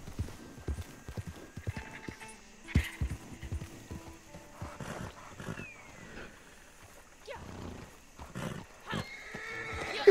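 Horse hooves clip-clop in an uneven rhythm with scattered whinnies and animal calls, set against a busy Red Dead Redemption 2 game soundscape.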